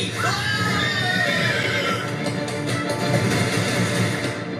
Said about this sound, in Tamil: வேள்விக்கான குதிரையை அடிக்கக்கூடாது.